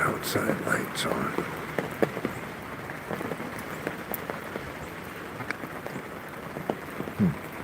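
Rain patters on an umbrella in a North Carolina rainstorm, a close, steady wash broken by crisp individual drop taps throughout.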